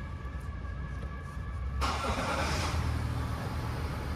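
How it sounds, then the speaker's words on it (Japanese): A brand-new Mazda CX-80 XD diesel SUV starting up, a brief crank catching into a steady, muffled idle heard from inside the cabin, fairly quiet and continuous. "エンジンをつけていただきます"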